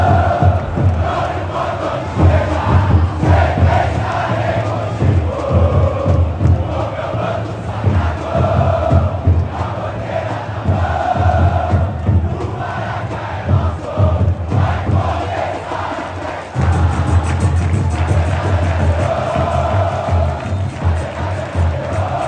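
A huge football stadium crowd chants and roars continuously at a Botafogo versus Flamengo match, a dense, loud wall of voices that stays full throughout with rhythmic surges.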